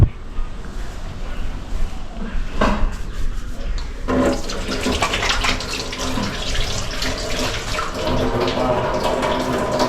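Tap water runs steadily into a sink while hands are washed with soap. The flow is loud and close, growing fuller and more continuous partway through.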